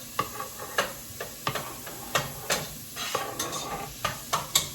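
Caramelizing onions in a non-stick skillet, heat turned down from high to about seven, are stirred with a utensil: a steady low sizzle broken by repeated close scraping strokes at an irregular pace, with no voices.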